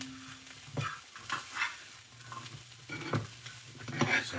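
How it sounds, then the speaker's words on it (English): Rice being stirred in a pot, with intermittent scraping and scooping strokes over a soft sizzle, close and moderately loud, no talking. "So I'm gonna stir the rice."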